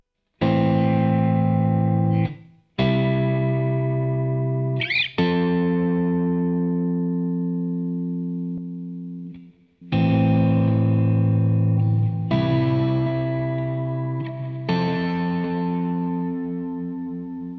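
Guitar chords ring out one after another through a Boss RE-202 delay unit with the pedal switched off, each long and sustained, fading slowly before the next is struck.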